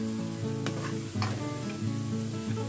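Spice masala hits frying onions in hot oil for a chicken and bottle gourd curry, giving a loud, continuous sizzle with stirring scrapes. No one speaks.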